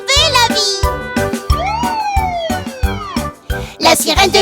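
A voice imitates an ambulance siren in a French children's cartoon song, singing rising and falling wailing glides over a steady, bouncy musical beat.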